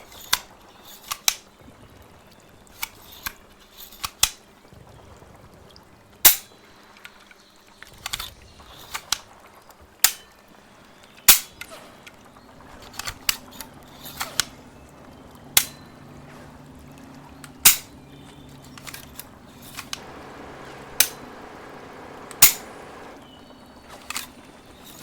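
A handgun slide racked repeatedly against a heavy recoil spring, giving sharp, close metallic clacks and springy clicks spaced a second or two apart over faint background noise.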